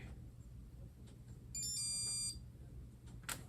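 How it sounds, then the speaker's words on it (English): A Palm IIIxe handheld emits a short, bright electronic chirp after completing a HotSync, a quiet multi-tone beep lasting under a second amid faint room noise. "That sounded like a pretty happy beep"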